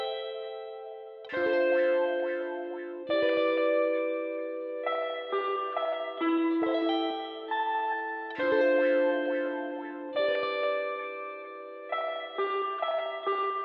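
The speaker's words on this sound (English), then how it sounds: "Once I added all these effects, it sounded like this. Playing all the guitars together," Several layered guitars run through heavy effects such as echo, chorus and distortion play repeating chords in a West Coast hip hop style, with no voices over the moderately loud, reverberant texture.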